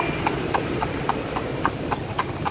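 Horse pulling a cart in Bagan, hooves clip-clopping in a steady, even rhythm close by over a constant rolling rumble of wheels and road noise.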